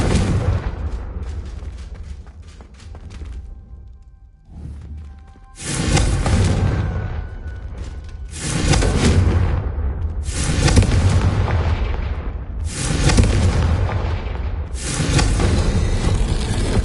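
Confringo fire spells in Hogwarts Legacy burst into a series of four loud, booming explosions, each blast roaring and rumbling out before the next, following a quieter stretch of combat sounds.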